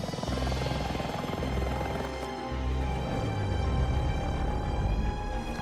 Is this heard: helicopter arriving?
yes